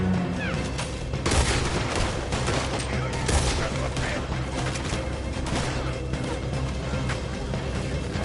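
Gunfire from a Red Dead Redemption 2 shootout, dense overlapping shots cracking near and far in a continuous loud barrage with sharper bursts throughout.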